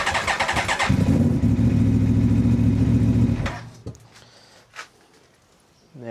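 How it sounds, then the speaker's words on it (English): An Aprilia V4 Tuono motorcycle engine cranks and fires up loudly, holding a strong, steady idle for a few seconds before cutting off, followed by a few faint clicks and knocks. "let's start the bike and see what it looks like"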